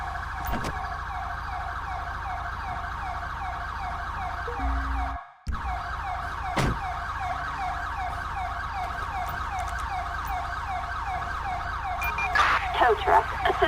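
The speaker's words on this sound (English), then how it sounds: "Ambulance." A wailing ambulance siren sounds from a crime-style video game set in Sandy Shores, rising and falling in a steady repeating sweep for the whole stretch, loud and close, with a brief dropout midway and a busier burst near the end.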